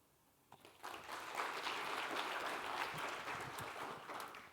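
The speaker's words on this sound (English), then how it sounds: "Can we have one round of applause again for all our speakers, please?" A conference audience at the SAPBA event claps for the speakers at the end of a session; applause swells quickly from quiet and holds as a dense, even patter for several seconds before easing slightly.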